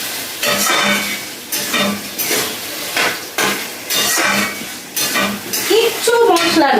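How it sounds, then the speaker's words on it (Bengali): Potatoes sautéed in a pan for ghugni: loud, close rhythmic stirring with repeated spatula scrapes and clanks against the pan over a frying sizzle, a brief squeaky scrape at the end. "এবার আলুটা দিয়ে দিলাম, আলুটা দিয়ে এবার কষাতে থাকবো আর একটু"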